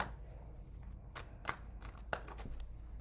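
Tarot cards are shuffled softly at close range, a quiet riffling with a couple of sharper snaps.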